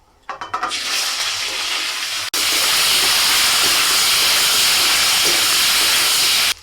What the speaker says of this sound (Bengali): তেলের মধ্যে ফোড়নে দিচ্ছি তেজপাতা শুকনো লঙ্কা পাঁচ ফোড়ন সিম আলু আর গাজর দিয়ে দিচ্ছি